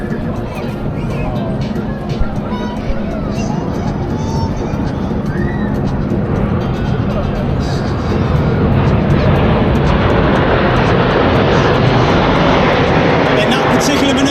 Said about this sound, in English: the aircraft are flying with their air brakes out